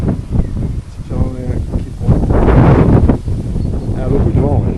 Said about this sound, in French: y a beaucoup de vent